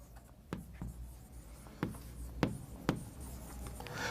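Marker or chalk strokes on a classroom board during an English grammar lesson make a few sharp taps and short scratchy lines, sparse and fairly quiet, with no talking.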